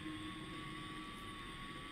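A cheap $50 camera drone gives off a steady, thin electric buzz with a constant high whine, close and unbroken for the whole stretch.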